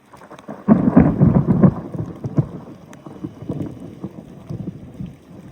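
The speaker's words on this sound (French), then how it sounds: "Là, on a cet orage en face de nous qui commence déjà à nous pleuvoir dessus" Mediterranean thunderstorm in Vaucluse, with a loud rumbling thunderclap rolling early on over steady rain, then fading into softer crackles and lighter rumbles with the rain continuing throughout.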